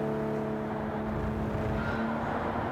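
A Toyota GR Supra in Gran Turismo 7 at Lago Maggiore East End reverse gives a steady, loud engine drone with a held pitch throughout, with some tire noise and no talking.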